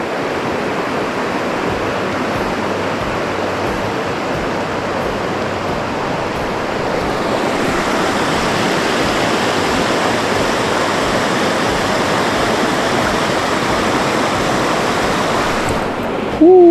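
A Pocono Mountains trout river runs high and fast, producing a dense, continuous rushing roar of water that stays steady and close throughout, swelling slightly partway through, with no voices over it.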